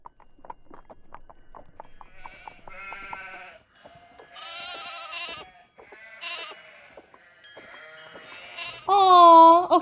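Sheep bleat in a Nancy Drew game set at Castle Malloy during a sheep-shearing task, with a loud, wavering bleat near the end after a series of softer clip-clop-like taps and short animal calls.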